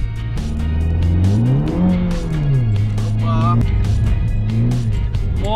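A BMW drifting and skidding around a wet Nürburgring in the rain, its engine revving and surging loudly under and between excited talk from people in the car, the pitch rising and falling with throttle.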